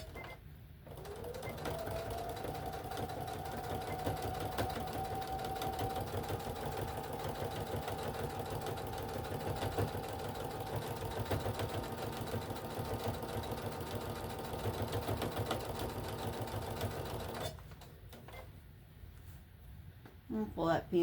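A sewing machine stitches steadily along the bottom edge of a fabric walker caddy pocket, running forward and then back stitching in a continuous close whir for about seventeen seconds before stopping, with talk over parts of it.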